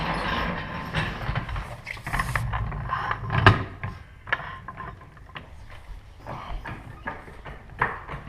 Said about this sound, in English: to make this wheel easier to work with and easier to get to, I'm going to get this corner off the ground